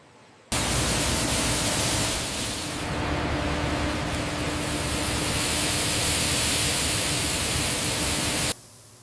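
A loud, steady roar of machinery fills the floor of a modern Hershey's chocolate factory. The dense, hissing wall of noise starts abruptly, holds for about eight seconds and cuts off sharply, with no voices.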